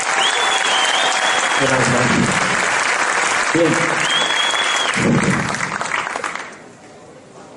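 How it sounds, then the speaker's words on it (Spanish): A large audience applauds at an Amway event, steady and loud, while someone speaks briefly through the clapping before it fades away near the end. "Vamos a darle un gran aplauso."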